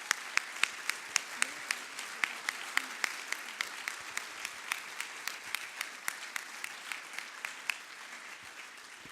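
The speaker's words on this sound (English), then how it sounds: "I'm going to ask for another round of applause." Applause from a conference audience closing out a tech talk, faint and distant, with sparse separate hand claps sounding out over soft room noise.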